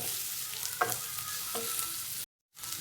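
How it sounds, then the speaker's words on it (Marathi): Chopped onion, ginger, garlic and chili sauté in a pan with a steady close sizzle, broken by a couple of spatula scrapes, then cut to brief silence before the frying resumes. "चांगलं थोडं लाल होत तोपर्यंत भाजायचं आलं लसूण मिरची बारीक केलेलं कांदा थोडंसं लालसर चांगलं होत तोपर्यंत करतायचं"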